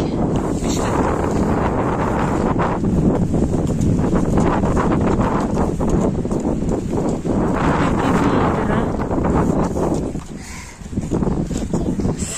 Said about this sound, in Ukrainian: Сильний вітер, да?